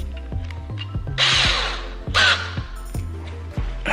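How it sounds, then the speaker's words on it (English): A power drill drives screws into a wooden raised garden bed, its motor whirring in short repeated bursts with a couple of longer high-pitched runs as screws bite into the wood, close and loud. "Let's screw the first screw in here."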